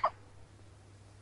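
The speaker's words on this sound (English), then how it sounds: "What's crying get you anyhow? Nothing but the hiccups." A single short, sharp cartoon hiccup right at the start, followed by quiet room tone with a low hum.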